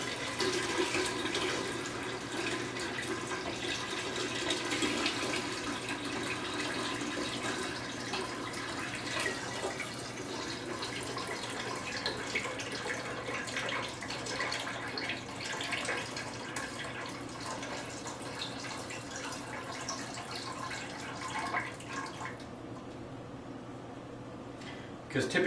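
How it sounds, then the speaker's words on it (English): Filtered bone broth poured slowly back into a pot in a home kitchen, a faint continuous trickle and splash of liquid lasting many seconds, quiet and close. "pour it back into your pot, and do it very carefully and slowly"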